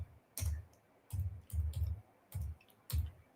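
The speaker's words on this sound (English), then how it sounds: "One finger typing is not great." Keys on a computer keyboard are pressed one finger at a time in slow, uneven single taps with short gaps between them, quiet and close.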